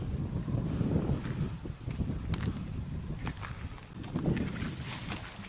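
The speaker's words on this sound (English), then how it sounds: "It is getting windy out here." Wind blowing outdoors by a lake at night, gusting in rough bursts against the microphone with a low rumble that swells and eases throughout, and no voices.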